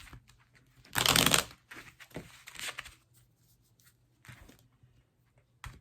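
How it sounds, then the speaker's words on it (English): Tarot cards are shuffled by hand at close range. A loud riffling burst is followed by softer papery slides and taps, with pauses in between. "Let's get another card."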